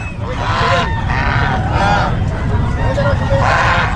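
Geese honk repeatedly and loudly nearby, several birds calling over one another amid a busy outdoor pet market hubbub in Bocaue, Philippines, with people talking.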